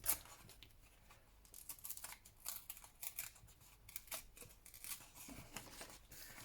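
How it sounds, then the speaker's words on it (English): Paper torn by hand to round off the corners of a collage, heard as a run of quick ripping and rustling bursts, fairly close and quiet, with no talking. "because I like round corners, so I'm just going to tear it up"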